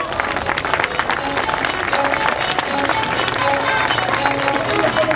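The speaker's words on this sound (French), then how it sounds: "je crois qu'on peut réellement les applaudir" A crowd at an air show applauds loudly and steadily, dense clapping with a little crowd murmur and some voices mixed in the background.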